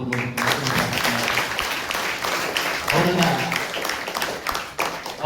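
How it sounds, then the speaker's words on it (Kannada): An audience at a school gathering claps for a teacher staying on as in-charge headmaster, a dense continuous patter of many hands filling the room for several seconds, with voices murmuring underneath. "ಅವರಿಗೂ ಕೂಡ ಚಪ್ಪಾಳೆ ತಟ್ಟುವುದು."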